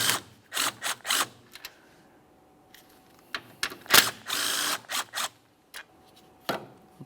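Ratchet or power driver loosening 10mm radiator bolts on a 2017-2024 GMC Acadia, several short sharp whirring bursts with pauses between, close and loud in a quiet space.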